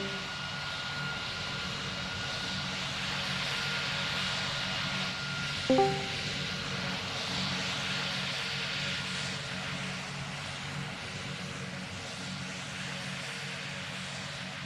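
A flight-simulator airliner engine drones steadily at a distance during a go-around, a constant low hum and whine with a brief click midway and no talking.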